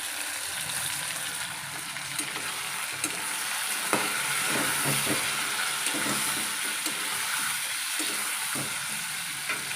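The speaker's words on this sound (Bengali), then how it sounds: "হলুদ দিয়ে কষাতে থাকি" Meat with turmeric sizzles steadily in a hot pan while it is stirred, a continuous loud frying hiss broken by scraping and clinking of the spoon.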